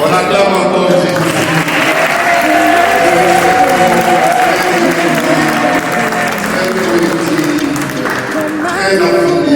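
Congregation clapping steadily at a church wedding in Montreal, a dense, sustained wash of applause from many hands with crowd murmur and a tonal musical layer underneath, holding loud for the full span.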